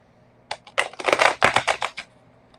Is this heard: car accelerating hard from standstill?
no